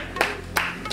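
A few sparse hand claps for two physics teachers in a school setting, three distinct claps spaced evenly, close and fairly soft over a low background hum.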